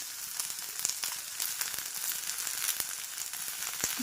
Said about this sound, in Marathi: तेलावरती ह्या भाज्या छान अर्धवट शिजेपर्यंत आपल्याला परतून